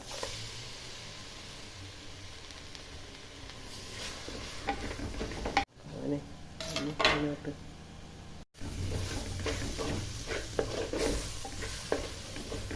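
Ground tomato and garlic-ginger paste go into sizzling Kerala chicken curry masala in a pan, giving steady frying hiss with stirring scrapes, briefly muffled in the middle, and a voice talking over it.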